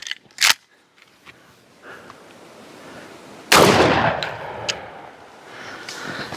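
Shotgun blasts from a Gökkurt shotgun with a triangular barrel ring out, one sharp crack early and a louder, booming shot later that echoes and decays, with faint clicks between.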